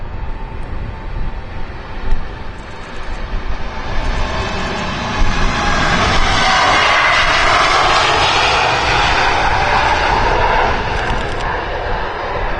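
A KLM airliner's engines roar at Amsterdam Schiphol Airport, swelling from a distant rumble to a loud, sustained drone close by.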